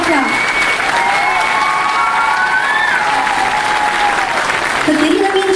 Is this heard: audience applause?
yes